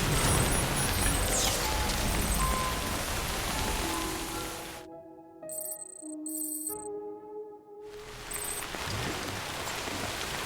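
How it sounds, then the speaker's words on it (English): Steady, dense rainfall hisses in the video game Death Stranding. It cuts out briefly while electronic chimes and tones play, then the downpour returns at full strength. "Rain's not letting up."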